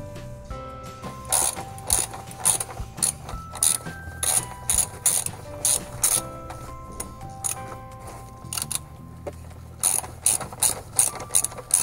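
Ratchet wrench loosening the seat belt anchor bolts on a VW Golf IV, clicking in repeated quick bursts of sharp pawl ticks close by, with short pauses between strokes and no talk.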